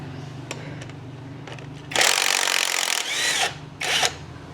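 A power tool whirs in short bursts as it removes a bolt from a Royal Enfield Classic 350 motorcycle during a sprag clutch replacement. One loud two-second burst is followed by two briefer ones close by, and no one speaks.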